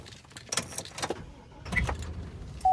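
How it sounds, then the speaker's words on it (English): Keys jangle and click close by in the cab of a 2003 Chevy Silverado 2500HD with a 6.0L Vortec engine, followed by a short mechanical thump as the ignition is turned. "let me turn the car on,"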